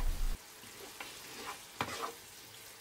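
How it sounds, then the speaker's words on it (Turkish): Potatoes seasoned with red pepper powder, black pepper and chili flakes are stirred in a hot pan, giving a few soft scraping strokes over a quiet sizzle, with no talking. "Kırmızı toz biber, karabiber, pul biberi de ilave ettikten sonra şöyle hepsini güzelce karıştırıyoruz."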